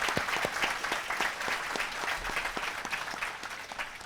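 Audience applause in a hall during a talk on old Gujarati theatre songs and stories: steady dense clapping from many hands, fairly even throughout, with no voices over it.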